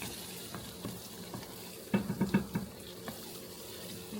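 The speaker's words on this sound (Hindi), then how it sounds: "प्याज पका रही है" Onions cooking in a pan for Rajasthani-style bhindi (okra) sabzi, heard as a low sizzle with a short burst of stirring scrapes midway, close and moderately quiet.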